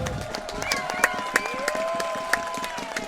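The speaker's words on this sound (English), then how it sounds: "You hear the crowd cheering here." Crowd cheering and shouting at a Roundnet World Championships 2022 match, a steady wash of voices with sharp whoops and scattered claps rising over the continuous noise.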